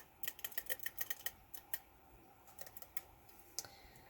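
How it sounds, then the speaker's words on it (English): Tape being pulled and pressed onto the back of a paper lighthouse cutout for a card, quiet crisp crackles and taps in quick clusters, faint and close, with no voices. "So I'll just tape the back of the lighthouse."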